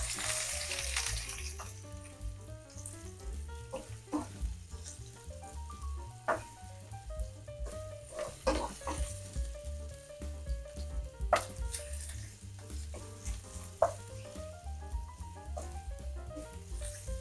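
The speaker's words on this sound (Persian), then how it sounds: "روغنمون رو میذاریم گرم میشه، سیر و پیاز رو میریزیم که" Garlic and onion fry in hot oil in a home kitchen, giving a quiet, steady sizzle with soft crackles and occasional stirring clicks throughout.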